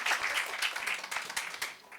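Audience applause at a partnership launch event for Carling Black Label and Kaizer Chiefs as a speaker comes up, a dense, steady wash of clapping from a crowd, with faint voices mixed in.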